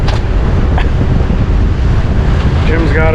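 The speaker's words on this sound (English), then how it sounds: "the wind's really blowing" Strong wind roars across a sailboat at sea doing about 6 knots, close to the wind, a loud continuous buffeting rush over the microphone with sea wash beneath it, and a faint voice near the end.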